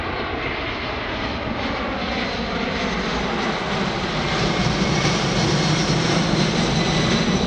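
A Boeing C-17 Globemaster III military transport jet roars steadily overhead during an air show demonstration, a loud broadband rumble that swells slightly as it passes, with no voices.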